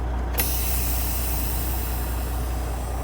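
A sharp burst of air hissing from a semi truck's trailer brake valve as it is pushed in, followed by a steady hiss of air over the low rumble of the idling diesel engine.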